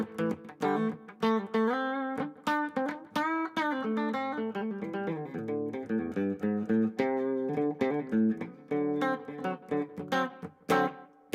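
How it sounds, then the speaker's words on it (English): Electric guitar played through a clean amp tone with a short slapback echo, a continuous melodic run of plucked notes and chords ringing loud and close for the whole stretch. "So here's the clean sound of the amp, and we're just going to have a little bit of slapback echo."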